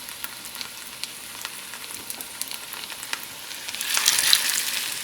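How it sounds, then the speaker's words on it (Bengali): Coconut-studded fritters (bora) frying in oil give a soft, close sizzle with scattered crackles and pops, swelling into a louder burst of bubbling near the end. "তো বন্ধুরা চলুন সব বড়াগুলো এইভাবেই ভাজা করে নিই।"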